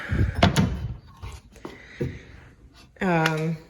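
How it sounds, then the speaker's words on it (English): Wooden dresser drawers sliding open and shut, a few short close knocks and scrapes separated by pauses, with a voice speaking over parts of it. "just listen to how nicely these drawers are working."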